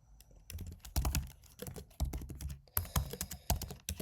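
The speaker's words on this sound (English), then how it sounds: "Just typing, no copy pasting" Typing on a computer keyboard, close and crisp, with bursts of rapid clicking keystrokes separated by brief pauses, alone with no talking.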